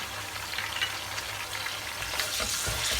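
Onion, tomato and garlic sizzle steadily in a hot pan, with soft crackling and occasional stirring sounds. Close and continuous, with no talking.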